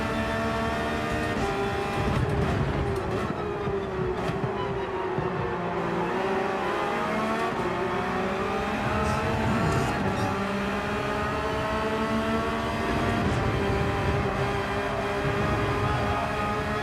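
Porsche Cup race cars circle the Nürburgring GP in Gran Turismo 7, with a steady, loud engine drone whose pitch rises and falls through gear changes and throttle lifts for the whole stretch.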